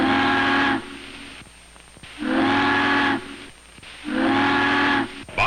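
Three long, deep whistle blasts from a large ship signalling for a lift bridge to open, with short gaps between them, loud and steady, with faint background rumble in the pauses.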